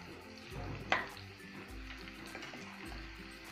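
Garlic, curry leaves and green chili fry in hot oil for a tempering, a low steady sizzle with a sharp clink of a utensil near the start and soft stirring sounds, close by with no talk.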